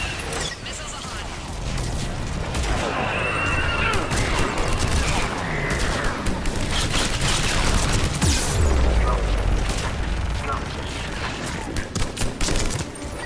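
Heavy, sustained barrage of missile and gun fire in Mass Effect 3, with rapid overlapping blasts and explosions rumbling throughout, and voices speaking beneath the combat.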